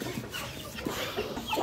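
Short, low clucks from a nearby Aseel rooster come in a loose, uneven sequence over a steady noisy background, with no one speaking.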